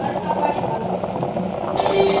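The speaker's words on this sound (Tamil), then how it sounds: "நல்லா கொதித்து இறக்குற பக்கம் வந்துருச்சு" Goat trotter paya soup bubbles at a steady, continuous boil in a cooking pot, heard up close under a soft voice.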